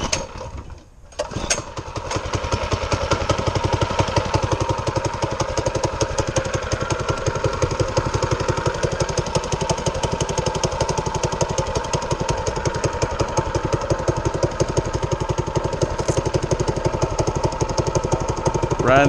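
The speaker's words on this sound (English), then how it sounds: "Riding the old bad attitude Manco Thunderbird" An old Manco Thunderbird go-kart engine sputters briefly, catches and then runs loudly and steadily with a rough, rattling idle and revving, close to the listener.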